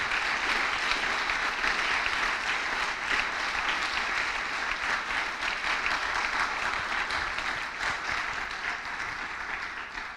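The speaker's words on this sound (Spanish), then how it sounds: "Dale el aplauso fuerte al Señor." A church congregation applauds loudly during a sermon, a continuous, dense roar of clapping from many hands that carries on for the full ten seconds without a break.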